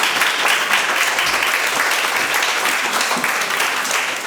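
Audience at a volunteer appreciation luncheon applauding steadily, a dense, even wash of many hands clapping close by that holds throughout and fades slightly at the end.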